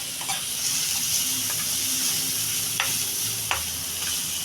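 Ridge gourd peel paste frying in a pan with already browned onion and garlic, a soft continuous sizzle with a few sharp stirring clicks and scrapes, fairly quiet, no speech.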